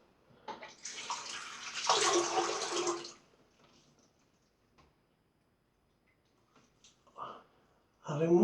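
Water added to Proraso shaving soap while lathering, a broad splashing burst for about three seconds, then near silence before brief wet lathering noises return at the end.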